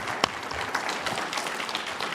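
An audience at a cybersecurity conference in Atlanta applauds, a steady wash of many hands clapping with a few sharper claps standing out, sustained for the whole stretch.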